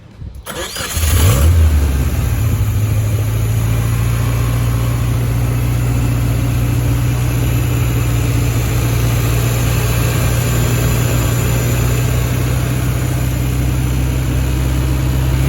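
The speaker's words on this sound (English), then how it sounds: "this is my 1929 Whippet Farm Truck" A 1929 Whippet farm truck engine cranks and catches, then settles into a loud, steady, rumbling idle held close up for the rest of the stretch.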